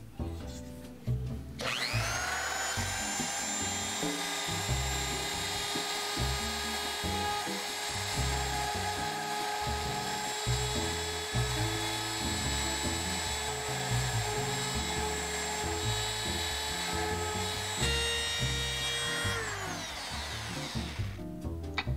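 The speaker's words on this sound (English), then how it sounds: "So I will make a 1/2 inch slice as straight as possible, may not even 1/8 inch deep." A power tool cuts a shallow half-inch straight slice into basswood for a tiki pufferfish carving, a steady high whine sustained for about sixteen seconds before spinning down, with rumbling low-end vibration throughout and no talk.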